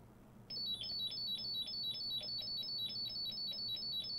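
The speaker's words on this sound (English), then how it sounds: "Well, that was a long beep." A long repeating beep from the small built-in speaker of an Acorn Electron computer, a rapid series of shrill electronic pulses that starts abruptly and continues steadily, fairly loud and alone.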